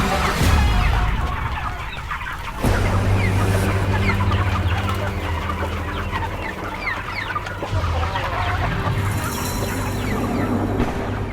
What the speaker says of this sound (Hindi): अरे ये मुर्गियां!